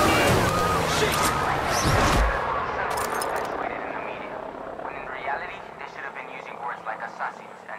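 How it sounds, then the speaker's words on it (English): An enemy helicopter passes overhead in the video game Far Cry 6: a loud rotor roar that fades to a steady distant drone, with a few gunshots and ongoing talk over it. "There's an enemy chopper creeping the skies nearby."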